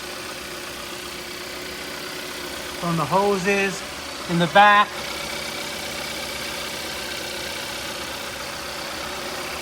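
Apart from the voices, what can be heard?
car engine idling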